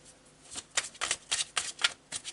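Tarot de Marseille cards shuffled by hand during a card reading: a close, quiet series of about eight short papery riffling bursts in an uneven rhythm, with no talking.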